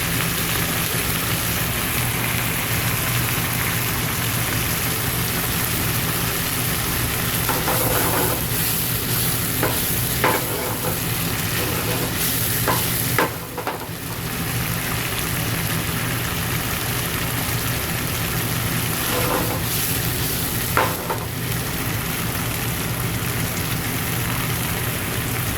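Shrimp creole, Hawaiian style, simmering in a pan: a steady, close sizzle and bubbling runs throughout, broken by a few soft clinks and scrapes of stirring.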